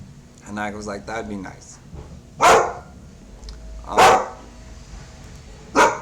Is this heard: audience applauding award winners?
no